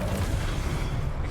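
Confringo explosion spell in the Hogwarts Legacy video game: a steady, dense low rumble with crackling texture, loud and sustained through the moment without a single sharp blast.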